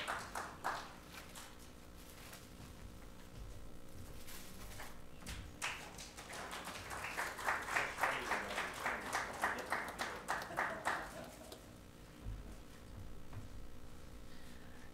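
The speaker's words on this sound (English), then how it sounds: "we must give him a big round of applause" A modest round of applause from a lecture audience builds from scattered claps into steady clapping for several seconds, then tapers off to a few stray claps.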